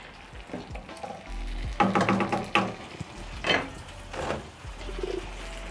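Chicken sizzles in tomato sauce in a pan with scraping stirs of a spoon, a few louder clanks, and a faint cooing bird somewhere in the background.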